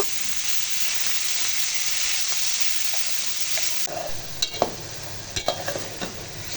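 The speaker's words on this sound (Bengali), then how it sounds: "যে মাছটা ভালো করে ভেজে নিতেছি এটা রুই মাছ ছিল" Rohu fish fries in a home kitchen pan with a steady loud sizzle, and midway clearer crackles and pops break through as the oil spits, no voices.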